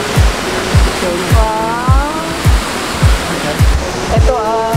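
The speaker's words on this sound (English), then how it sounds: "Yes, I can hear the falls." A small waterfall, Maria Cristina Falls, pours in a steady broadband rush, loud and close, while a rhythmic thumping beat and warbling tones play over it.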